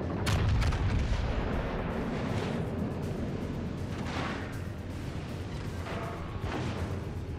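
The Yamato battleship's main guns fire in World of Warships Legends against US battleships, a heavy booming salvo up front that trails into dense, rumbling explosions and scattered distant thuds.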